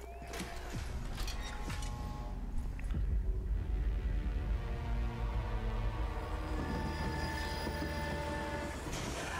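A train in the zombie shooter Zombie Army 4, a continuous loud rumble of rolling rail cars with clattering wheels and sustained tonal squeal or horn-like tones, filling the whole stretch without talk.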